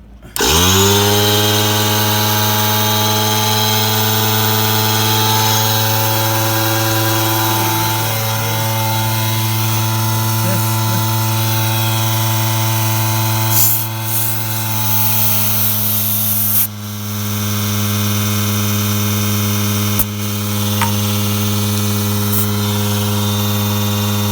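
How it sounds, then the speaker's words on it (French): A Mastercraft 2-gallon air compressor runs while inflating winter tires, giving a loud, steady motor drone with a strong low hum that holds for the whole stretch, shifting slightly partway through with no voices. "je fais maintenant l'essai du compresseur Mastercraft pour souffler mes pneus d'hiver"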